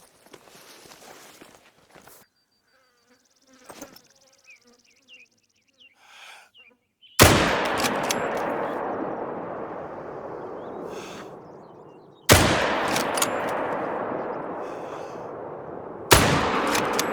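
Three loud rifle shots in theHunter: Call of the Wild, set in a snowy valley ranch, each cracking sharply and then decaying into a long rolling echo, spaced several seconds apart after a quieter stretch of footsteps and faint ambient birds.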